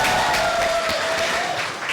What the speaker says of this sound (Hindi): इसलिए आपके लिए एक बार जोरदार ताली होनी चाहिए